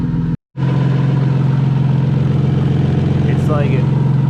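A Lexus SC300 with a custom, slightly leaking exhaust idles steadily with a low, even exhaust rumble, close by, briefly cutting out near the start before resuming.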